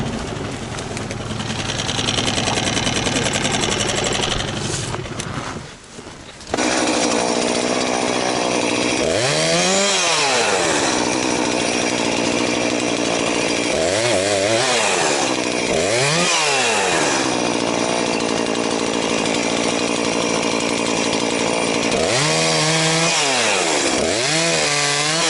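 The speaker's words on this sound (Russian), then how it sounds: "Сейчас пила у меня с собой. Что смогу, буду пилить." A chainsaw cuts through wood on a taiga trail blocked by fallen timber. The engine holds a loud steady drone, then dips into repeated straining cuts and rises again as the saw revs, with no voices.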